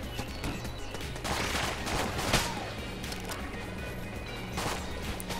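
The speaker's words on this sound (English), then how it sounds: "I guess I'm only shooting two-shot bursts" Gunfire in the Enter the Gungeon video game, a busy clatter of rapid game shots and impacts layered over dense background game sound.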